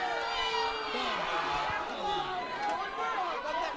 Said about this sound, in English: This crowd is pumped.